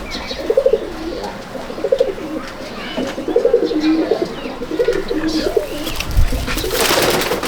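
A pair of all-day flying pigeons at a Malda loft coo in repeated soft, rolling phrases, close by, with faint rustling and a brief noisy burst near the end.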